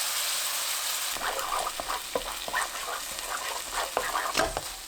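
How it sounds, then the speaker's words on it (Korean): Garlic scapes are stir-fried with dried shrimp and seasoning in a pan, giving a faint steady sizzle broken by a series of soft clattering stirs and scrapes. "잘 섞이면 새우 넣고 볶아줍니다."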